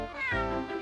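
A single cat's meow, close and clear, rising then falling over less than a second, alone with no talk.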